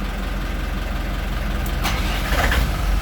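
Port Volvo mechanical inboard engine of a Bayliner 3450 Avanti cruiser turning over and firing, with a brief cranking surge rising over the steady rumble of the other engine already running nearby.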